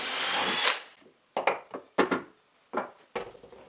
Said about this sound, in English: I drill a hole at the end of 2 wood strips.